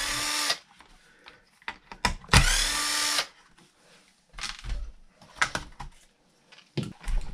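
A power driver spins out 2 mm bolts from the skid plate of a Traxxas E-Revo RC truck in several short, whirring bursts with quiet gaps between, one longer run near the start.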